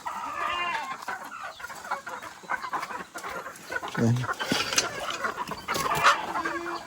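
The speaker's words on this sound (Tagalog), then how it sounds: "Mga kabeskay, pakainin muna natin yung manok." Chickens cluck and murmur close by while a person talks over them, with scattered rustling and movement in the background.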